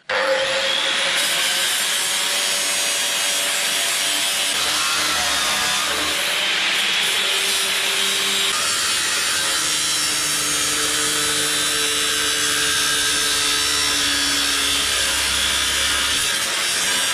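A tool cuts the edge off a metal Bob-Tach part from a Bobcat 751 skid steer, with a continuous loud, harsh grinding and sawing close by that shifts pitch as it bites.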